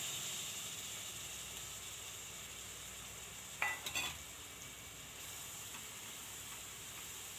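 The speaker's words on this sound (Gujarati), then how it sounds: "હવે આપણે આ ડુંગળી છે એને નાખી દઈએ।" Finely chopped onion sizzling in hot oil for paneer bhurji, a steady frying hiss throughout with a brief clatter of stirring partway through, close and moderately loud.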